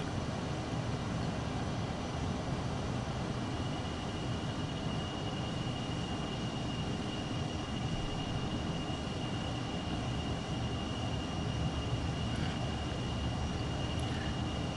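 A jet on approach to land on an aircraft carrier deck in Microsoft Flight Simulator, with its engine a steady, loud broadband roar and drone that holds without a break throughout, no voices.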